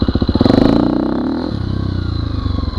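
Motorcycle with a Rekluse clutch and loud aftermarket exhaust doing an aggressive first-gear takeaway blip, a close, sharp rise in revs followed by a pulsing, throbbing exhaust note as the bike pulls away.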